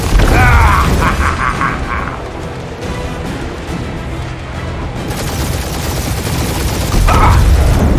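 Gunfire in the Marvel's Guardians of the Galaxy game, heard as loud, continuous bursts of shooting and mechanical clatter mixed with game sounds, while a character's voice briefly breaks in over the noise.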